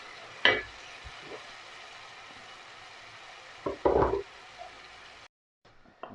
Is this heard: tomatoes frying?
yes